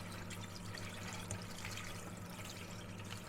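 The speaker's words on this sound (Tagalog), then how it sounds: "Huhugasan ko lang siya ng malamig na tubig." Cold running water pours steadily from a faucet over spinach being washed for a salad, a soft continuous splashing hiss with no talk.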